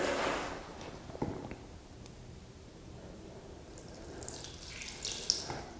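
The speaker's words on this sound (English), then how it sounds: "So I'm going to go ahead and apply a little bit of water in here." Water poured into a bucket of drywall mud, a brief splashing gush at the start, then quiet handling noises and a faint trickle returning near the end, close by, with no talking.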